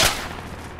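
A tank main gun fires in the Project Reality military shooter, one sharp loud boom that decays into a rumbling tail over less than a second.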